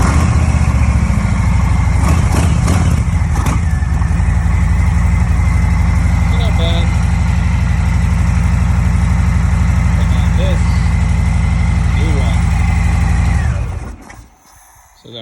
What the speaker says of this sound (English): This is the stock exhaust right now.